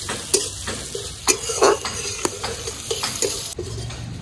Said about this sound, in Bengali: সুন্দর করে চিকেনের টুকরাগুলোর সাথে এবার এটা একটু ভেজে বা কষিয়ে নেব।